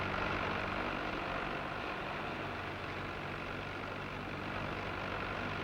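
A Ford 5000 tractor engine rumbles steadily at a 1965 Ford display team show, a continuous low drone that holds level as it pulls away, with no talk over it.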